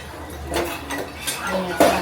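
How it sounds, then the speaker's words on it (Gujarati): Dishes, pots and pans clink and clatter in a home kitchen during washing up, with irregular knocks and scrapes of metal utensils at moderate, close range. "અત્યારે વાસણનું કામકાજ ચાલે છે"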